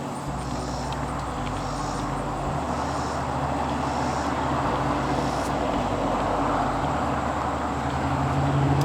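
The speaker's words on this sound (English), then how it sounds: "So you probably hear that car go by." A car passing on a road near a wooded campground at Douthat State Park, a steady, moderate tire and engine rumble that carries through the whole stretch without any talk.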